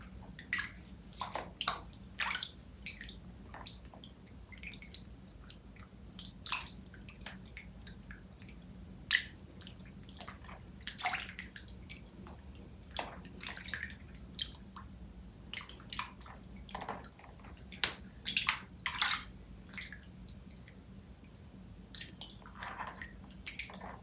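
Feet are rinsed clean with lukewarm water during an at-home foot care routine, giving close, soft splashes and drips in an uneven rhythm against a quiet background.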